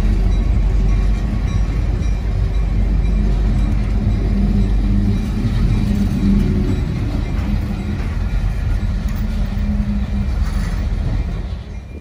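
A short four-car freight train shoves refrigerated reefer cars loaded with fish back onto the Maritime Terminal siding in New Bedford, Massachusetts, with a steady, loud low engine rumble and rolling rail noise that fade slightly at the end.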